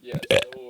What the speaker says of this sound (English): You just burped